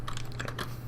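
Quick burst of computer keyboard typing after a tab press, several close, crisp key clicks in under a second over a steady low hum.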